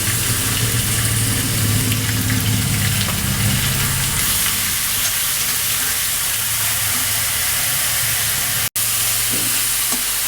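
Onion paste fries in oil for a katla fish curry with man kachu, a steady close sizzle hissing evenly throughout with one brief dropout near the end; no one speaks.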